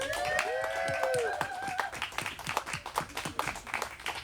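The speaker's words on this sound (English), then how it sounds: "And let's get a round of applause for Karen." Scattered hand claps build into applause from a small crowd, with voices and cheering over the start.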